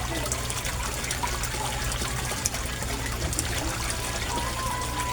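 An aquarium air pump runs for a koi tank, a steady low mechanical hum under continuous bubbling and trickling water, close and even throughout.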